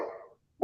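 A dog gives two short barks separated by a brief silence, fairly close and moderately loud, during a live online chat about RC car racing.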